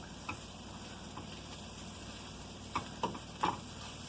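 Onions sizzle softly in a pan over slightly below-medium heat, a steady low frying hiss broken by a few sharp clicks and taps near the end, with no talking.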